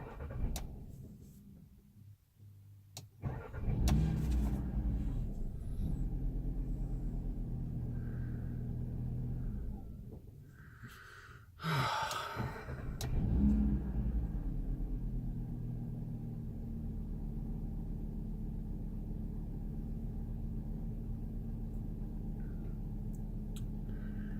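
A struggling car engine runs rough after a hard start that took minutes, a steady low rumble with sputters and dips early on, then settling into a continuous loud idle, close by with no talking.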